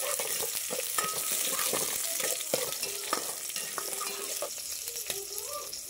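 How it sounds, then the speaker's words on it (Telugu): Ingredients sizzle and fry in a pan for a biryani while a spoon stirs and scrapes against the metal in irregular clinks, a steady close crackle with no talking. "మంచిగా వాటిని ఫ్రై అయ్యేంత వరకు వేయించుకోవాలి ఫ్రెండ్స్"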